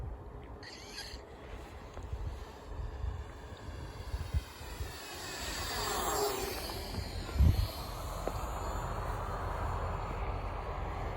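A radio-controlled model plane fitted with skis flies overhead, its small engine droning steadily at moderate distance and swelling as it passes, with a faint sharp tick midway through.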